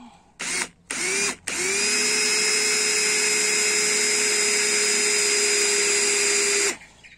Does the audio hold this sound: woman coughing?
no